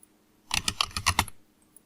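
A short, quick run of about a dozen crisp clacks on a computer keyboard as data is typed in, close and alone, then a single faint tap after a pause.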